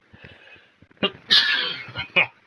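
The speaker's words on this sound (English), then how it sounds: "Oh, I'm sneezing." A single sharp sneeze bursts out close to the microphone during a Minecraft gaming session, preceded by a shorter throat sound and followed by a couple of brief breathy bursts, with soft talk before it.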